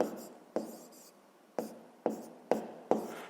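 A pen scratches out a sixth-grade maths solution on paper, with six sharp stroke onsets each trailing off into softer scribbling, close and steady with no voices.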